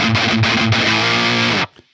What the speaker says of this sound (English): It's a really nice boost pedal, pretty much replace any boost pedal I would use because this is so dynamic and it's got high gain and it's an overdrive.